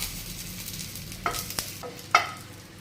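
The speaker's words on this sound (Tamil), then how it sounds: "கொஞ்சமாக எண்ணெய் சேர்த்துக்கிறாங்க பூண்டு வறுத்துக்கு மட்டும் சேர்த்துட்டு நல்லா வறுத்துக்கலாம்" Garlic frying in a small amount of oil for idli podi, with a faint sizzle and a few sharp scraping stirs of a spoon against the pan, close by and no one talking.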